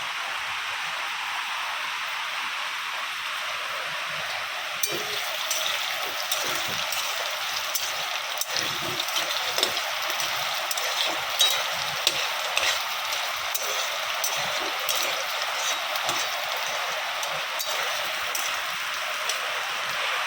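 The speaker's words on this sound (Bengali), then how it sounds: "টিনের ঘরে বৃষ্টি হলে আওয়াজ প্রচণ্ড হয়" Heavy rain drums on the tin roof of a house, a dense, even patter with scattered sharper ticks that holds steady for the whole stretch, with no voices.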